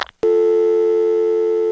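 A telephone busy signal sounds in a clip from an Xbox 360 release party, a loud steady tone beginning abruptly after a brief noisy burst and holding to the end.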